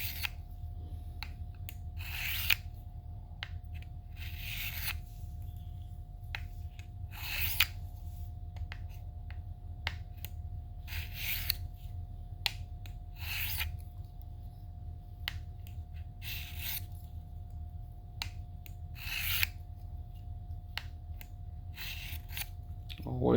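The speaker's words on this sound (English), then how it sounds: "you're working that burr back and forth" A double edge broadhead is stroked back and forth on a sharpening jig to work the burr, giving repeated short scraping rasps over a steady low hum, with faint talk underneath.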